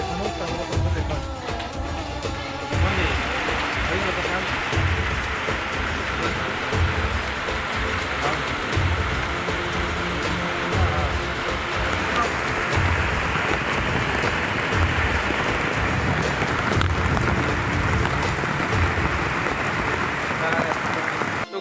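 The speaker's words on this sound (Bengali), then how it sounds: "এটা হচ্ছে জল বইছে, এখানে এসে বসলাম" Rainwater flows steadily outdoors after a downpour, a dense, loud, continuous rushing wash with spattering that fills the whole stretch; no clear talk over it.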